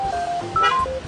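Telephone dialing tones: a quick run of short, clear electronic beeps at changing pitches, played loud and close over faint background noise.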